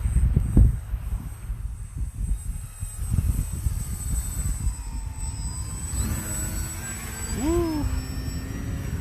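RC plane flown at night, its engine whining in a steady drone that rises and falls as it passes, with wind buffeting the microphone and a rising whistle-like sweep near the end.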